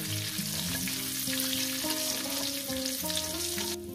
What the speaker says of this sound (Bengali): ফোড়নটা কয়েক সেকেন্ড একটু ভেজে নেব